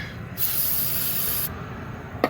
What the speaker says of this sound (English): Spray them with some brake clean.